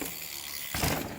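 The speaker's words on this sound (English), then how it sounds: "A bicycle zipping past from right to left." A bicycle zips past from right to left, a quick ratcheting, whirring pass that swells suddenly near the end and stays close and fairly loud, with no voices.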